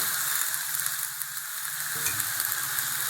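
Citron pieces fry in a pan with a steady, loud sizzle and hiss and a brief stir partway through, with no talking.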